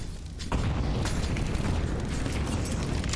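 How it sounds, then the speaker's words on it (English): Grenade explosions in Counter-Strike: Global Offensive during a pro match on the Ancient map: a sudden burst at about half a second swells into a loud, sustained rolling boom and rumble that carries on with no voices. "MIBR really keeping them far back with nades at the beginning"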